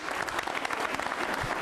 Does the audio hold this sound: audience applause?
yes